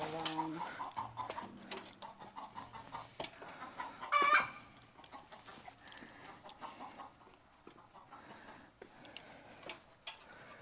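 A chicken clucks faintly and intermittently in a quiet indoor space, with one brief louder squawk, while people talk on and off nearby.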